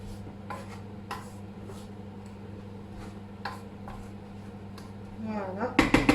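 Zucchini noodles with shrimp and persillade are stirred in a pan, with scattered utensil clicks and scrapes over a steady low hum and a brief sizzling burst near the end.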